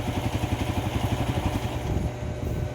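A Honda TMX 155 motorcycle with a misfiring, hard-starting engine runs with a steady, pulsing thump, loud and close, and no voices are heard.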